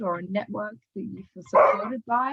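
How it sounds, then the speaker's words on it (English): A dog barks in short bursts close by, partly overlapping a person who keeps talking steadily. "Sorry, that's my dog."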